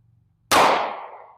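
A single sharp, loud S&W Shield Plus 9mm pistol shot, fired one-handed at a range, cracks close by and rings out in a decaying tail.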